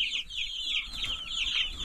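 Chickens in a chicken tractor on grass, a steady chorus of close, busy clucking and chirping with no talking.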